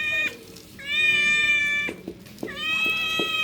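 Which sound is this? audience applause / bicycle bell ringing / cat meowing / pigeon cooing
cat meowing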